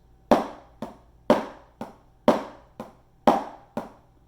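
Single-stroke drum hits in four pairs, the first stroke of each pair clearly louder and the second lighter, crisp and close with no other sounds.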